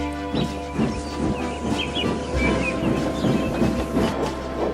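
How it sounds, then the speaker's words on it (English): Steam engines Thomas and Sir Handel roll along rails with a steady rhythmic clatter and chuffing, underscored by continuous background music, with light bird-like chirps scattered on top. "Thomas and Sir Handel puffed through the flowery fields and the green meadows of Shen Valley"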